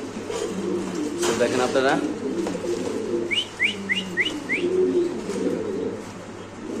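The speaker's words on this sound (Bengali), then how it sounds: "এখানে আছে একজোড়া মুন্ডিয়ান কবুতর" Pigeons, including a pair of Mundian pigeons at a market, give a short run of repeated soft coos over a busy background, while someone talks nearby.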